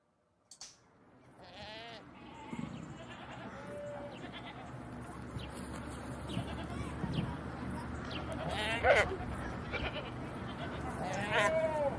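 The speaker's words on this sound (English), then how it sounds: "That's a goat." A goat bleats repeatedly in a farm setting, several wavering calls rising in loudness toward the end, heard over a steady background murmur and low rumble with voices present.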